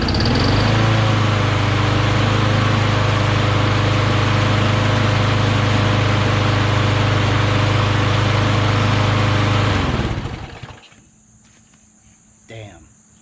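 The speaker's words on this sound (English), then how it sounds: "Damn, that's a good mower." A freshly primed lawn mower engine runs loud and steady nearby for about ten seconds, then cuts off abruptly, leaving near quiet with a faint thump at the end.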